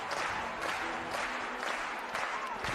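A Swedish crowd at an international 1.50 m show jumping competition at the Longines FEI Jumping World Cup applauds in a steady, moderately loud wash of clapping that continues throughout, with a commentator talking over it.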